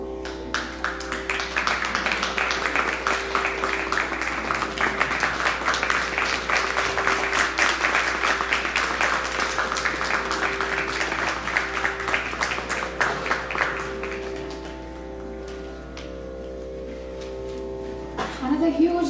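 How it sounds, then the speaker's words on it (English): Concert audience at a music academy fundraiser gives sustained applause to a young mridangam player, a dense even wash of clapping over room hum that tapers off near the end, with some talk beneath it. "Another huge round of applause for Niranjan"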